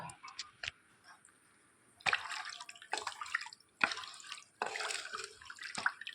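Fish curry gravy poured into a clay pot in a few separate splashing gushes, close by with quiet pauses between them, and no talking.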